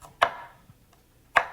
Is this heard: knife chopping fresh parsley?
yes